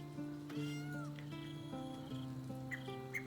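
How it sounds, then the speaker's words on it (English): Cat meowing in the video game Baldur's Gate III, several clear drawn-out meows over soft sustained tonal music, close and distinct against a quiet background. "I heard a meow."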